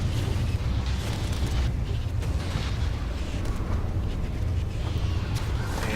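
Weapons fire and ships exploding in a Stellaris space battle, a dense, continuous roar of rumbling blasts and booms with scattered sharper bursts throughout.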